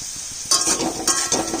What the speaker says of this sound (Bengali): আলুটা লাল করে ভাজবো